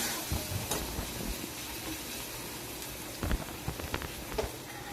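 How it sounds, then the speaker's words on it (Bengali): Sliced onions fry in a pan with a pinch of salt, a steady crackling sizzle like rain, with soft scraping stirs and a few louder clacks of the spatula near the end. "লবণটা দিয়ে আবারও নাড়াচাড়া করে নিচ্ছি"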